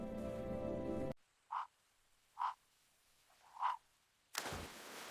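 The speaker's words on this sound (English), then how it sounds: "Frog." Three short, distinct frog croaks sound one after another in quiet surroundings, each a brief resonant call with pauses between.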